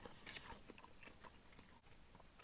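Someone bites into crunchy McDonald's fries, a few quick crisp crunches up close at low volume, followed by soft chewing.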